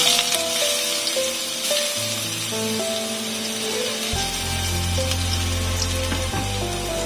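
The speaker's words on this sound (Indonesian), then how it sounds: "saya akan tumis bawang putihnya dulu ya" Garlic sautéing in a pan for nasi goreng with lime leaves, a steady close sizzle of frying oil running throughout, with a low hum that deepens partway through and a few faint clinks from a utensil.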